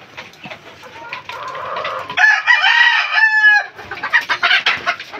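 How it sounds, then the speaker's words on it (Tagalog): Pet fighting gamecocks cluck steadily, then a rooster lets out a loud, close crow in the middle before the clucking and scratchy farmyard noise resume. "Mga alaga namin mga manok guys."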